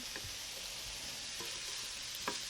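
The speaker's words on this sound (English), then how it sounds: "Going to mix that together." Fried rice being stirred in a hot pan, a steady sizzle and frying hiss throughout with a few scraping clicks of the utensil against the pan.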